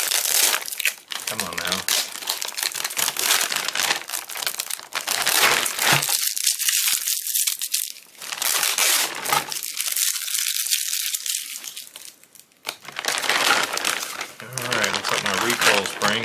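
Tape is peeled and crumpled off an HK G3 parts kit, giving loud continuous crinkling and tearing bursts with brief pauses, close up, while someone speaks briefly.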